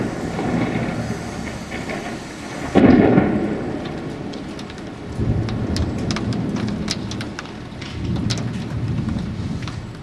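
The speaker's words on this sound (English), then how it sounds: "Wake up this morning and it's hailing." Hail storm hitting a window: a dense, loud pattering roar of ice striking glass, with heavier bursts and scattered sharp clicks throughout.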